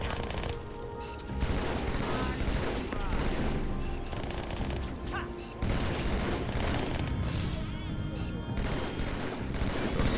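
Sniper rifle fire in a Halo 2 battle, loud repeated shots and crashes layered over dense game music and effects throughout, with a brief dip midway before the barrage resumes.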